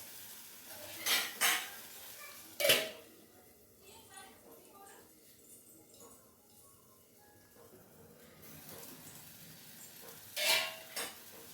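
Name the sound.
lid put back on the cooking pot of mushroom curry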